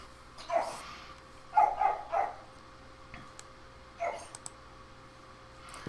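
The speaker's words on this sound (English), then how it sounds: "The dog started barking." A dog barks in several short bursts, a lone bark then a quick cluster of three and a later single yap, fairly close but modest in level over a quiet indoor room with faint clicking.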